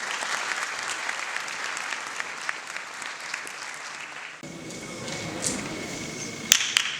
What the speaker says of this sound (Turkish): Alkışlarınızla hepsini sahneye davet ediyorum.